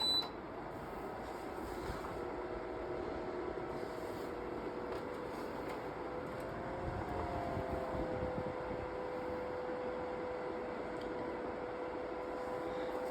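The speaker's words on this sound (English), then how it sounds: "this is a loud fan. Alright, now for speed number 2." A Cascade 40-inch tower fan runs on speed 2, giving a faint, steady airy whir with a thin tonal whine and no pauses.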